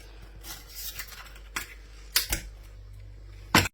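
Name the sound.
knife opening and cutting mussel shell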